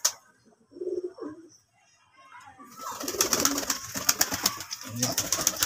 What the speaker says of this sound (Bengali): এই ঘরে সব আন্দ্রা ট্রিপলার আছে।